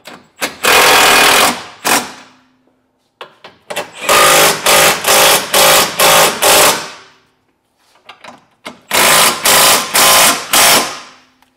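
An impact or power tool tightens the spherical bushing bolts on a Honda Element rear lower arm in three loud bursts of rapid hammering, each broken into short pulses with brief pauses between.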